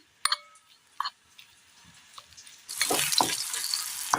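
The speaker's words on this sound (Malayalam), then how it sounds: "ഇതിലേക്ക് ഇതേപോലെ തന്നെ സെയിം മീറ്റ് മസാല, ആവശ്യമായ ഉപ്പ് നന്നായി ഒന്ന് ഇളക്കി കൊടുക്കാം" Meat masala and salt are stirred into a frying pan in a Kerala recipe: a few sharp, isolated scrapes and taps come first, then a loud, continuous sizzle takes over for the last second and a half.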